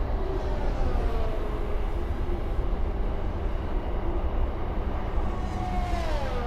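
A distant train rolls past a house, a steady broadband rumble holding at an even level from start to finish, with a faint rising whine near the end and no talk.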